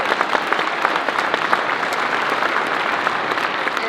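Steady audience applause fills a Texas GOP gubernatorial debate hall, dense and continuous with sharp individual claps throughout, loud and close, no voices over it.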